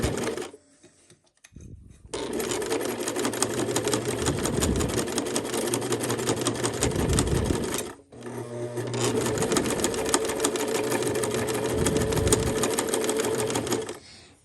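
Sewing machine running in two long continuous bursts around bias binding on an 18th-century pocket, a steady fast whirring chatter with a brief pause between runs, close and clear.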